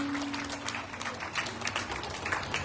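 An audience claps together during a devotional stage play, a short burst of scattered hand-claps that holds steady for a few seconds without voices.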